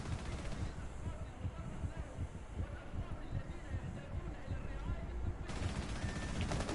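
.308 rifle fire in a video game, a rapid series of dense, rumbling shots and bursts that run almost continuously, loud and close, with a voice speaking over the gunfire.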